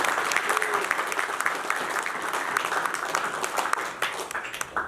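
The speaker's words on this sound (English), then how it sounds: "So please give them a big round of applause" Sustained applause from a press conference audience greeting fighters at a Matrix Fight Night event, dense steady clapping throughout with a faint voice briefly underneath.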